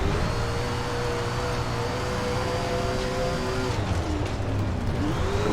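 Several dirt late model race cars roar around a track in a racing game, engines droning steadily with shifting pitch as cars pass close by, a continuous loud pack of motors.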